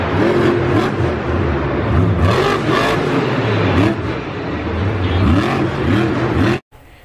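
A toy jeep off-road car makes a continuous electronic engine and revving sound, loud and steady with wavering pitch, then cuts off abruptly near the end, with no talk.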